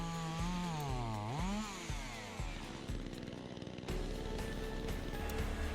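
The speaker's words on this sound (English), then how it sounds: "he helped us out to cut down the trees and chop it into firewood" A chainsaw revs and whines with a rising and falling pitch, then settles into a rough, buzzing cut through overgrown trees being cut into firewood, loud and close throughout.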